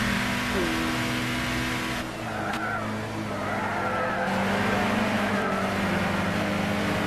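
Nissan Zytek LMP2 prototype race car in Gran Turismo 6 at Le Mans at night, its engine droning steadily and loud with a brief gear-change dip and tire noise, heard alone throughout.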